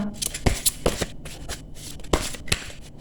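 A deck of tarot cards being shuffled and a card drawn, giving quick papery riffles and sharp slaps in an irregular rhythm, close up with no talking.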